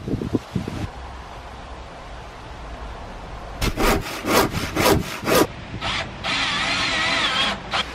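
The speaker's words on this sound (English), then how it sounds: "We'll chop it down and then put them back on for a nice finish." An old wooden sideboard is cut down to size with a hand saw, short strokes at first, then a run of loud rhythmic back-and-forth rasps close by, followed by longer steady sawing.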